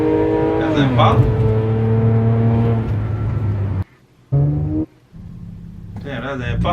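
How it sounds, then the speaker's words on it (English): A Chevrolet Impala, apparently set up for racing with slicks, revs hard up close, its engine note climbing and holding loud before cutting off in two short gaps, with voices talking over it. "that's an Impala doing all that noise."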